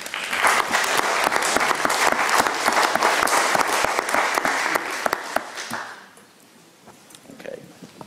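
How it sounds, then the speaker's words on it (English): Conference audience at a NASA-ESA-EGU joint session applauds its panelists, loud close clapping with sharp individual claps, then fading abruptly about two thirds through into a quieter room with scattered sounds. "I think they really do deserve a final round of applause."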